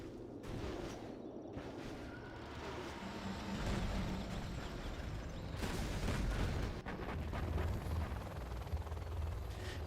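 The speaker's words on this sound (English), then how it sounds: "Artillery now from Size." Booming artillery fire in a Command & Conquer Generals Zero Hour battle, dense rumbling blasts and crackling impacts, rather faint overall with a heavier burst in the latter half.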